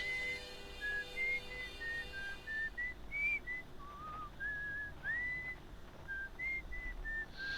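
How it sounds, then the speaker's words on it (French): Someone whistles a wavering tune of short melodic phrases over a faint, steady background hiss, with no talking. "quelqu'un qui siffle."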